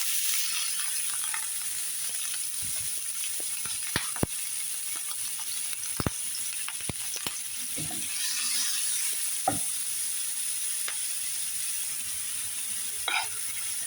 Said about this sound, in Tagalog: Lagay na natin yung bawang at saka